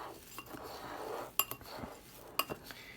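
Dry oatmeal ingredients stirred in a bowl, a soft continuous scraping and shuffling broken by a few sharp clinks of a utensil against the bowl, close and fairly quiet with no talking.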